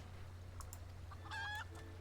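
Rooster named Enkidu in the Final Fantasy XIV video game giving a few short clucks and a brief crowing call over a low steady background hum.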